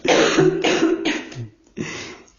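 A few short, throaty coughs in quick succession, close and fairly loud, with a brief pause before a final one.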